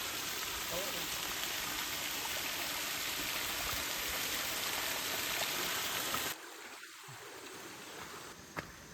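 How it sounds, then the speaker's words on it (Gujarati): A small hillside stream flowing at Vangan Hill, with steady broadband water rush that is even and continuous before dropping away sharply near the end, leaving a quieter background. "અહીંયા મસ્ત ઝરણું વહેતું છે"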